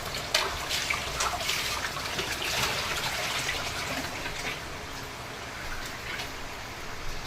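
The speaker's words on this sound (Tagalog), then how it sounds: "Mama Maria po natin naghuhugas" Running water pours steadily and loudly during washing up, a continuous close splashing gush with faint clinks over it, lasting the whole stretch without talk.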